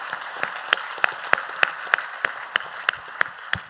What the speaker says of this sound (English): a big hand of applause for our distinguished panelists